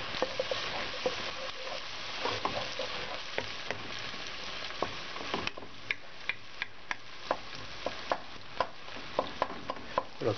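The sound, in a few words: onion and garlic sautéing in pan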